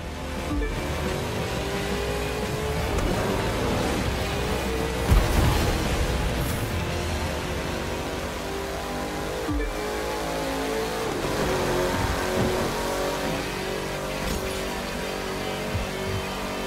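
Car engine in The Crew 2 racing game revving hard at speed, a loud sustained roar with shifting pitch and gear changes throughout, with no voices.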